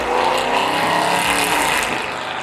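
A tuned Audi RS7 making 700 wheel horsepower roars loud and close in a short, dense blast of engine noise with no talking over it.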